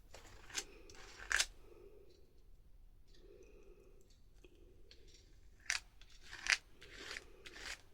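Scissors cut paper into small pieces for journal cards, giving a few sharp, close snipping crunches spread over several seconds in an otherwise quiet room.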